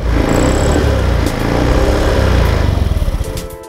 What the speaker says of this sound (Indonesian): Dan ini saat motor digas.